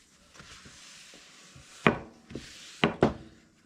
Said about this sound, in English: So yeah, got them both sanded out now.